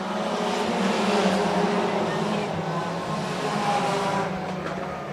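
IMCA Sport Compact race cars run a feature race at Shelby County Speedway, a steady blended engine roar from the field heard at a distance with crowd ambience.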